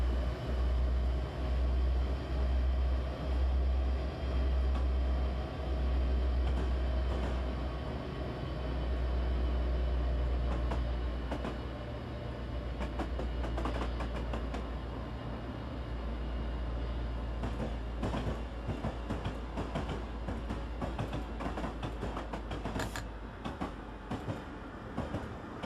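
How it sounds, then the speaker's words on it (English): A noisy freight train in Train Simulator 2015 on Sherman Hill rumbles steadily close alongside, deep heavy drone with rattling bursts building toward the end. "And we get a noisy freight train right alongside us right off the bat."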